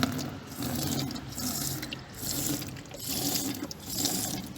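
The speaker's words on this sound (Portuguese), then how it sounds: "pego o meu prata, o meu líquido, um balde limpo e vou colocar produto no balde" Cleaning liquid is poured into a clean bucket, a steady splashing stream of liquid running continuously at close range, swelling and easing in waves.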